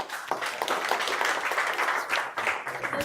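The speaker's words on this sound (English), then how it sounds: "let's give a round of applause to him" At a founder-led go-to-market session in San Francisco, a crowd gives a round of applause for the YouTuber Blendy: uneven, lively clapping with sharp individual claps standing out from the steady wash.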